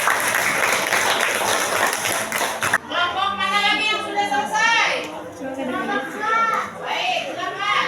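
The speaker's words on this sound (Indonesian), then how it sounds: "Baik, tepuk tangan buat kelompok 4." Brief burst of classroom clapping for a student group, filling the first few seconds, then giving way to a person talking over a quieter room.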